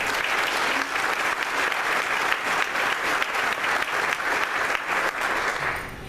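An audience at a leadership breakfast gives a sustained round of applause, dense even clapping filling the room for about six seconds before easing slightly at the end.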